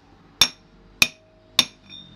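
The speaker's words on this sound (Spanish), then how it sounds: "con un martillo y un tubo vamos a dar unos golpes para ver si se ensambla" Three sharp metallic strikes of a hammer on a metal tube, seating a suspension part on a 2010 Ford Focus, evenly spaced about half a second apart, each ringing briefly.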